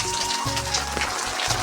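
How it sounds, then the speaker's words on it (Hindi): Steady rain falls over open farm fields during rice transplanting, making a dense, continuous hiss that may be drumming on an umbrella close by. "और बारिश भी लगातार हो ही रही है"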